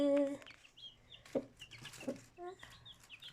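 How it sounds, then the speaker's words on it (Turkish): High-pitched peeping from several newly hatched chicks, short chirps scattered irregularly, with some soft clucking nearby and faint background voices. "Bizim civcivlerimiz çıktı."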